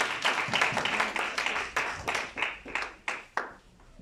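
A church congregation applauds the deacon during a Sunday service, with a steady run of clapping that thins out into a few scattered, louder claps toward the end.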